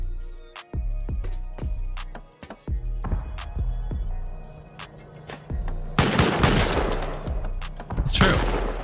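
Rapid, loud bursts of gunfire rattle against turrets during a base raid in a survival video game, with dense volleys early and heavier, more chaotic shooting toward the end.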